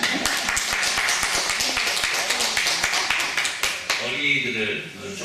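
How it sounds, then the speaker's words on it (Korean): A church congregation at a Sunday service for Children's Day claps along in a steady rhythm, the sharp claps sitting under continuous voices. "박수 한번 합시다"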